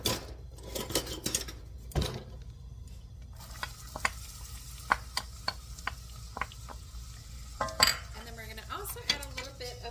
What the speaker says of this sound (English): In a saucepan, I have 4 sticks of butter that is melting, and to that we're going to be adding some onion.